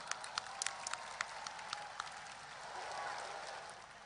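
A large crowd at a stadium celebration marking Nahdlatul Ulama's centenary applauds for the Banser NU honor guard, with scattered sharp claps standing out over a broad, fairly distant wash of clapping that swells slightly toward the end.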